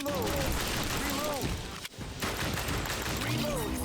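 Rapid gunfire from a light gun in The House of the Dead: Remake, a horror arcade shooter, with a loud, steady stream of shots and game effects broken by one brief gap.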